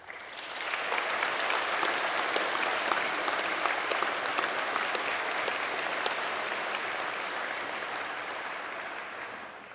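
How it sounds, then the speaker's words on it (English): Audience at a UCLan university graduation ceremony breaks into sustained applause, a dense wash of clapping that swells in after a second and holds steady for several seconds before easing slightly, with no talking over it. "I think you all deserve a round of applause from the students"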